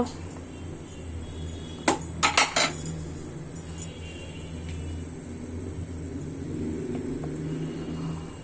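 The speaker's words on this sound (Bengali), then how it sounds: "চাল ডাল সিদ্ধ হবে নাড়াচাড়া করতে হবে অনবরত" Rice and lentils stirred in a pot for shahi haleem: a quick burst of metal spoon clanks against the pot, then a low, steady simmer and rumble with faint scraping.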